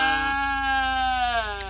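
A single noisy sheep on an off-grid homestead lets out one long, loud, wavering bleat up close, sustained with almost nothing else around it.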